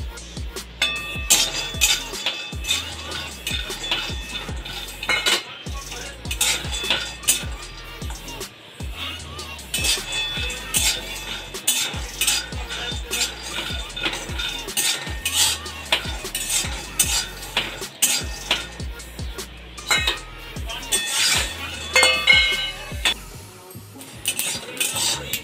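Peanuts roast in a dry pan as a spoon stirs them, giving repeated rhythmic scrapes and metallic clinks against the pan, close and steady with faint crackle beneath, no voices.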